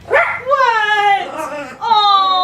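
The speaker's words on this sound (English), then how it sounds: "Even when he's barking like a little maniac, I find you adorable." A fluffy puppy gives a string of high, yappy barks and whiny yips close by indoors in a kitchen, several quick excited calls in a row.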